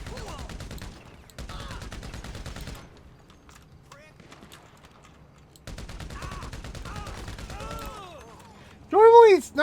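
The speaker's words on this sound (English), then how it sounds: "We're gonna have to go machine guns now." Bursts of rapid machine gun fire in GTA 5, a few sustained volleys with pauses between, fairly loud, with a player talking over parts of it and some game sounds.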